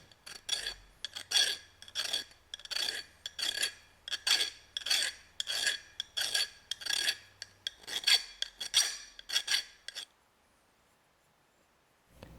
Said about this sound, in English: I just take a file and smooth the end.